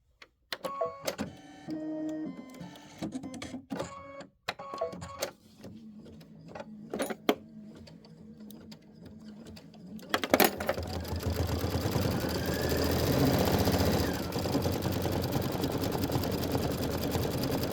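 An embroidery sewing machine stitches a snowflake onto linen. It starts with irregular clicks and short mechanical whirs, then settles into a loud, continuous rapid stitching drone.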